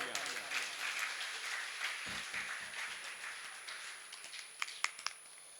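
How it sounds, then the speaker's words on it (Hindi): An audience at an International Yoga Day music and devotion program claps for a tabla master, a soft, steady patter of applause with a few sharper claps near the close. "एक बार इनके लिए जोरदार तालियां"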